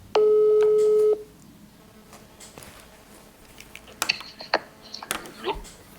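Telephone call placed to reach a contest winner, opening with a steady ringback or busy-type tone for about a second, then quiet line noise with scattered clicks and faint voices.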